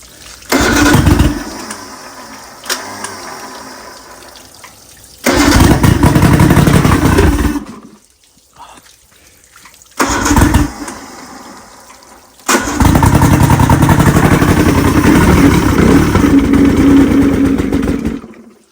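A homemade racing outboard motor that likely needs a carburetor clean is started repeatedly. Each time it roars loudly for a few seconds and then dies, leaving brief near-silent gaps before the next start and a longer final run, with no talking.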